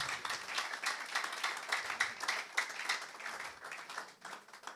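Faint, distant applause from a church congregation during a sermon, a soft irregular patter of clapping that rises and falls.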